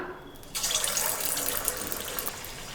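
Marinated chicken 65 pieces drop into hot oil for frying, and a sudden bright, steady sizzle starts after a quiet moment and continues evenly.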